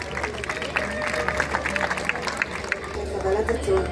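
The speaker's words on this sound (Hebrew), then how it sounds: "תנו כפיים לענת, מגיע לה" An audience at a school graduation ceremony claps steadily in a large hall, a continuous rumble of applause mixed with crowd murmur and a low background hum.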